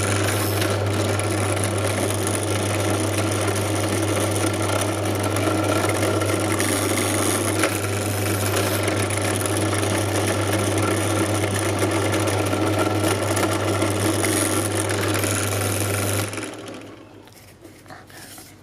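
A power drill boring 2.5mm holes in a board whirs steadily with a constant motor hum, running continuously before spinning down and stopping near the end.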